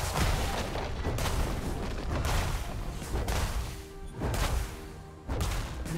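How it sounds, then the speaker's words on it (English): A League of Legends turret crumbling under attack in a match, heavy booming crashes and impacts repeating every second or so over busy game noise, loud and close, with no talk. "Blue team's turret has been destroyed."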